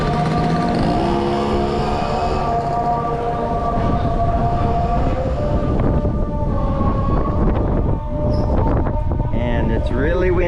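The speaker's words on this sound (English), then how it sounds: "Really windy." Strong seaside wind buffets the microphone on a street in Port Louis, Mauritius, producing a loud, continuous rumbling roar with gusty surges throughout.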